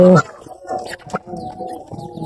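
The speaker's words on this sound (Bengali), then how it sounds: "এই যে বাচ্চাগুলো দেখতেছেন এগুলো হচ্ছে আমার ফার্মি মুরগির বাচ্চা" Young farm chicks give short, high cheeps close by, mixed with brief bursts of a person's voice.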